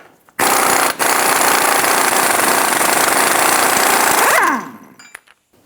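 An impact wrench with a 36mm socket removes the rear axle nut on a 2007-2017 Ford Expedition. It makes a loud, close, steady hammering rattle for about four seconds, then winds down into quiet clicks.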